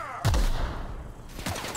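Squad gunfire in The Outer Worlds, a sudden loud volley of shots bursting in with a deep boom and rumbling on, a second burst of shots following near the end.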